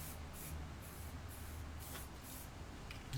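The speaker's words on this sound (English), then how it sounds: "So let's give it a quick spray around." An aerosol can sprays lubricant around the door hinge of a 2011 Land Rover Defender in a series of short, hissing bursts. The hiss is steady and moderately close, with no talking.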